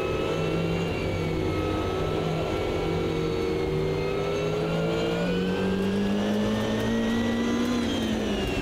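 Engine of a badly damaged Ultima race car in the Automobilista 2 racing game, revving loudly and continuously with rising and falling pitch through gear changes, close and alone.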